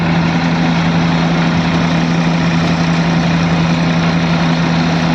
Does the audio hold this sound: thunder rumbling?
no